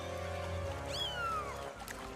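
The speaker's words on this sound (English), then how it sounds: "Poor kitty." A cartoon cat gives a single rising-then-falling meow over a bed of music and background sound, heard clearly for about a second.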